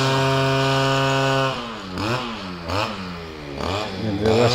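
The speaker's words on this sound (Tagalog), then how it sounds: "Nag-grass cutter." A gas grass cutter runs outdoors, first a steady loud engine drone, then revving up and down in repeated surges with no talking.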